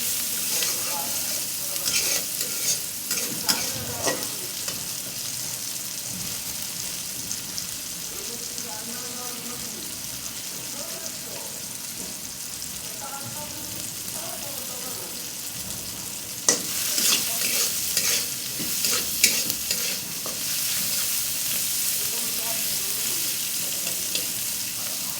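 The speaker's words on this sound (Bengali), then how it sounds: "পেঁয়াজ রসুন কাঁচামরিচগুলো আমার ভাজা হয়ে" Onion, garlic and green chillies frying in a pan while cooking a Bengali red spinach dish, a steady close sizzle with intermittent stirring clatter and louder spits near the end, a voice talking over it at times.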